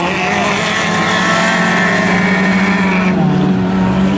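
Traxxas RC model cars racing in a championship round, a loud, continuous high-pitched motor whine that holds steady and shifts pitch near the end as the cars pass close by.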